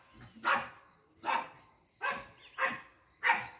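A dog barks five times in a steady, evenly spaced series, at moderate distance with little else around it.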